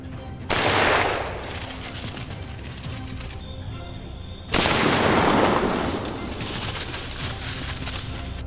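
A rifle fired while hunting wild hogs: two loud, sharp blasts a few seconds apart, each trailing into a long, rumbling roar.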